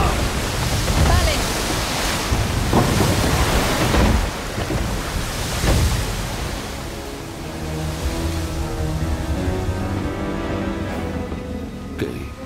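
A giant serpent surges up out of the sea in the God of War video game, heard as a heavy, roaring wash of churning water and rushing noise that fades into a lower steady rumble.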